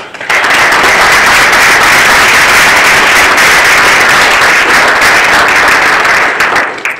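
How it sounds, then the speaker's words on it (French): Loud, sustained applause from a large crowd, steady and dense for several seconds before tapering slightly at the end. "joignez-vous à moi pour les applaudir"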